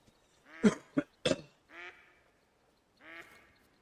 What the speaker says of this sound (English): I hear ducks quacking all over the place.